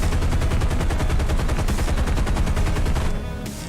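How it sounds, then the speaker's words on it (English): Aircraft machine guns in War Thunder fire one long, loud, rapid burst of evenly spaced shots, cutting off near the end to leave a lower background hum. "we'll fire an extended burst"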